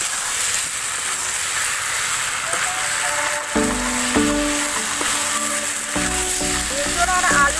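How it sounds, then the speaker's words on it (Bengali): Fried jackfruit and potato pieces tipped into hot spiced masala: a steady loud sizzle and hiss throughout, with spoon knocks and scrapes against the pan in the second half, close up with no voices. "এবারে আমি ভেজে রাখা এঁচোড় আর আলুটা দিয়ে দেব।"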